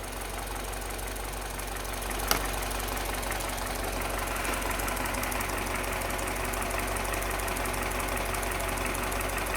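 A warm Mini R engine idles steadily during a combustion leak test for an overheating problem and suspected head gasket, a continuous close mechanical hum with a faint knocking texture and one brief sharp click near the start.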